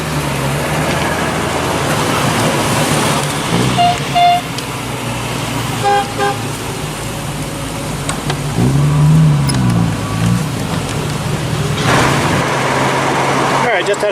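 Cars lining up and pulling away on a poker run, engines running steadily with a revving swell midway, a couple of brief horn toots and voices talking over the traffic.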